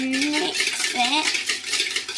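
Spoon stirring and scraping in a bowl while mixing caster sugar and egg into flour for Jaffa cake batter, close and steady for about two seconds, with a brief pitched squeak or voice-like tone mixed in.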